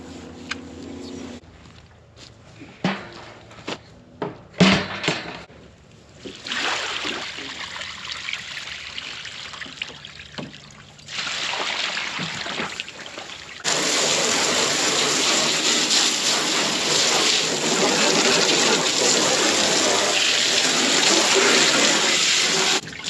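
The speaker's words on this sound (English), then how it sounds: "This trough is going to take a really long time to fill up." Water pours from a garden hose into a trough: first a few splashes and bursts, then a steady rushing flow that grows louder and stays constant to the end, with no talking.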